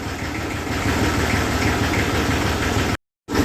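A Massey Ferguson 35 tractor engine runs in a farm field, with a steady, close, low diesel rumble and throb that cuts out briefly near the end before resuming.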